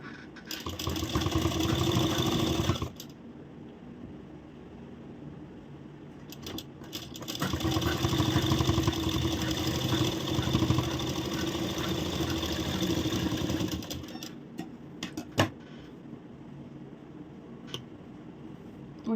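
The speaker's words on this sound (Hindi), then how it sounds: "और यहाँ हम सिलाई को शुरू कर देंगे।" A sewing machine stitching a blouse runs in two sustained bursts of steady whirring with a pause between, ending with a few isolated clicks; no one speaks.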